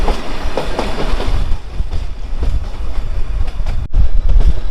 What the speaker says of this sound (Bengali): আমাদের ট্রেন এখন ঢুকছে কেট্টি রেলওয়ে স্টেশনে